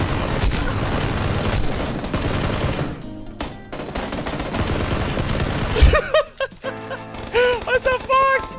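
Rapid video game gunfire rattles in dense automatic bursts, then breaks into scattered shots and game effects, while a streamer talks over the action.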